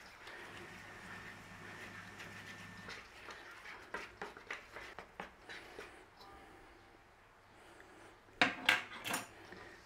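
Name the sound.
fork mixing pie pastry dough in a bowl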